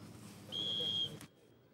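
A referee's single sharp, steady whistle blast starts a football match, sounding for about half a second over faint background murmur, then stops abruptly.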